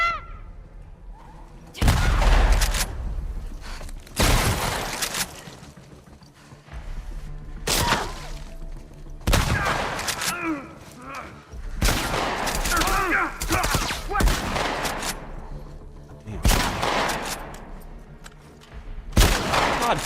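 Repeated bursts of gunfire in The Last of Us Part 2 during Abby's Seattle day two, about eight loud separate volleys spread across the stretch, with quieter combat noise between them.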